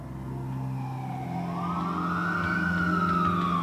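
An ambulance siren wails in long rising and falling sweeps, loud and close, carrying continuously with engine rumble underneath and no voices.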